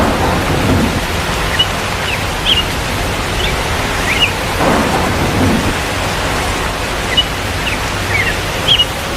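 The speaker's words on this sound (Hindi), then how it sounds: "ये बारिश, इस बारिश ने अब हमारी पूरी फसल को खराब कर दिया।" Heavy rain pours steadily in a dense, constant roar while low thunder rumbles swell and fade beneath it, with faint bird-like chirps now and then.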